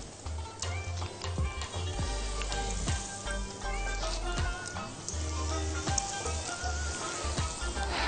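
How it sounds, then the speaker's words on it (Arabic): Meat patties stuffed with egg filling fry in hot oil, a steady bright sizzle with scattered crackles and pops running the whole time, close and fairly loud, with a low hum underneath. "هننزل في الزيت بهدوء خالص"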